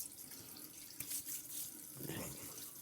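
Cold water running from a bathroom tap while a slant safety razor is rinsed under it, a close steady splashing stream that swells briefly as the blade passes through.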